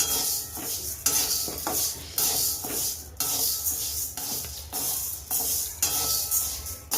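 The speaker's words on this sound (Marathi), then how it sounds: "थोडंसं मुगाला चटका लागेल एवढं भाजून घ्यायचं आहे आपल्याला" Moong beans dry-roast in a pan and are stirred with rhythmic scraping strokes about once a second. The gritty rattle is close and moderately loud, with no voices.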